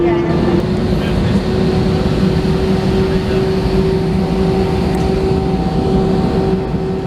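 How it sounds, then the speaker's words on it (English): An American Airlines Airbus A319 taxis to runway 8 right at Miami, heard from inside the cabin as a steady low engine rumble with a sustained whining tone and constant level. "Currently taxiing out to Miami's runway 8 right for departure out to the east."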